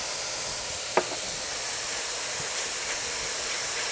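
Ginger sizzling in a hot pan with garlic and mushrooms for shrimp lo mein, a steady close hiss of frying with a brief clink of a utensil early on, no talking.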